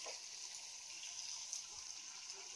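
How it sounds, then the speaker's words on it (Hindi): A small cup of water is poured into a pan of pointed gourd poppy seed curry, giving a steady, soft, continuous pouring wash with no voices. "तापरे एइथिरे गोटे छोट कप पानी दबा।"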